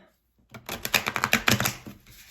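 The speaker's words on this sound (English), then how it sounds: "I started shuffling again" Tarot cards being shuffled by hand, a quick run of crisp riffling clicks and slaps after a brief silence, close and fairly loud.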